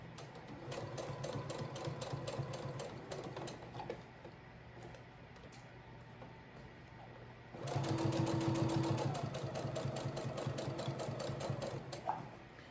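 A sewing machine stitches binding onto a quilt in two close, rapid runs of even mechanical whirring, with a quieter pause between them and no talk.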